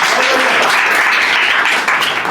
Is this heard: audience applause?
yes